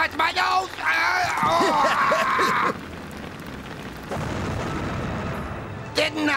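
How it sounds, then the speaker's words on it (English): Cartoon fireworks display with booming bursts and crackling explosions, some near and some distant, mixed with character voices and whistling effects. "They even put on a firework display for it."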